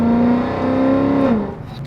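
Catless Mercedes CLK63 Black Series V8 revving to 3,500 RPM, a loud, close, smooth engine note holding steady, then dropping in pitch as the throttle is released.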